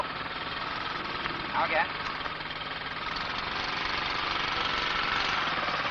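A 1970s training motorcycle engine runs steadily at moderate revs as a learner rides under power, a constant drone with an instructor's brief spoken command over it.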